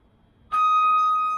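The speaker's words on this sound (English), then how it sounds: "that annoying beep is every time you move." A scissor lift's movement warning beeper gives a single sustained electronic tone as the lift moves forward, loud and steady against a quiet background for almost a second.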